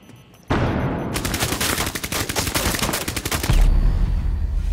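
Gunfire in Rainbow Six Siege: a loud sustained burst of rapid automatic shots, tightly spaced, breaking off into a heavier low rumble near the end, with no talk over it.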